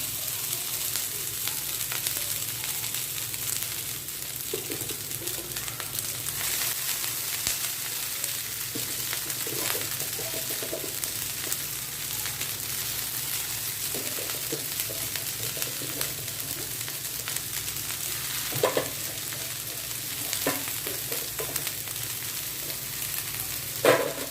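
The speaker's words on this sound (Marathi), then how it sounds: "त्यामध्ये मी आता घालत आहे आपले शिजवलेले नूडल्स" Cooked veg Chinese noodles stir-fried with vegetables in a pan give a steady close sizzle throughout, with occasional scraping clatters of stirring and tossing.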